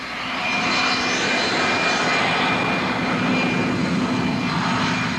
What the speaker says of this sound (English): That is a jet aircraft engine being used to help dry out this soggy quarter mile